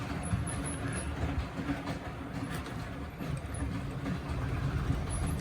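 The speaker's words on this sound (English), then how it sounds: "I think that's very illustrative of the quality of that Fleischmann copy motor in there." A Hornby 9F Evening Star model steam locomotive runs on a Fleischmann-copy motor, giving a steady, even whirring and rumbling that holds at moderate loudness throughout.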